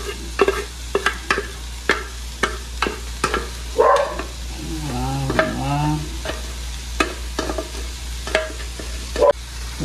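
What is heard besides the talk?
stirring shredded chicken with onion in a pan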